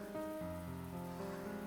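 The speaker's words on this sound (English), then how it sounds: "Rain is pouring down from the sky." Rain pours down in the visual novel Baldr Sky as a steady, even hiss under soft, sustained music tones, with no voices.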